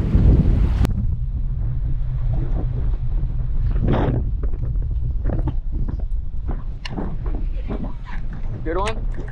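Strong wind buffets a fishing boat at night, a steady roaring rush with gusts against the microphone, while people talk intermittently over it.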